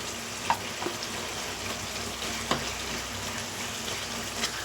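Capsicum fry with garlic-coconut chili powder being stirred in a pan, giving a steady low sizzle with a few soft scrapes and taps of the spoon.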